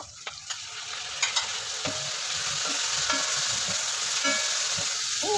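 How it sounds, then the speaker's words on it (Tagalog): Shrimp frying in a hot pan give off a steady, close sizzle, with scattered clicks and scrapes from stirring throughout and no one talking. "ilagay na natin itong hipon"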